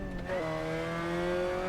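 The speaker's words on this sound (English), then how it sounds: "We have a Lotus twin cam engine in this car" A Lotus twin cam four-cylinder engine in a 1960s AC Legends GTC car in a video game hums steadily, its pitch climbing slightly with a brief shift early on, loud and close with no talk.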